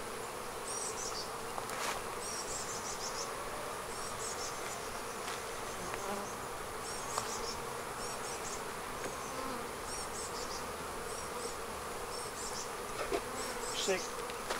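A steady, dense buzzing of many honeybees around their hive fills the air, constant and close, with faint higher chirps flickering in the background.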